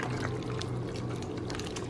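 Beef broth pours steadily into a cooking pot in a faint, continuous stream with no talk.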